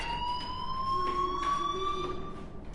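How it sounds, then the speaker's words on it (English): Fire alarm ringing inside a school building in the Life is Strange video game, a steady, continuous electronic siren-like tone sounding alone and fairly loud for the whole stretch. "do you hear that fire alarm? That means you should be outside."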